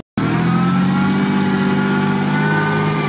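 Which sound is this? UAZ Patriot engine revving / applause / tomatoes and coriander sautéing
UAZ Patriot engine revving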